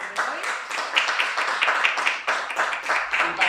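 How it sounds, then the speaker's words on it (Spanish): An audience at a poetry congress at the Fundación Caballero Bonald breaks into steady, dense applause for the day's guests, with many hands clapping close by in a sustained ripple and no pause. "Un aplauso para nuestros invitados de hoy"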